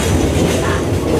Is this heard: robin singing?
no